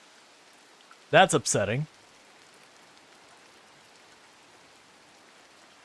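Steady rain falls in the farming video game Coral Island, a soft even hiss running throughout, briefly interrupted by a short spoken remark near the start.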